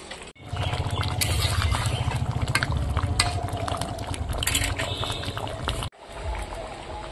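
Hot water poured into a pot of chicken kosha curry splashes and bubbles continuously, a close, churning liquid sound that cuts off abruptly, then resumes quieter.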